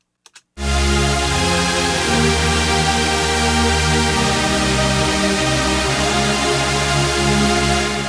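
A sustained, lush synthesizer pad swells in after a couple of faint clicks and holds steady, thick and bright, with slowly shifting chords.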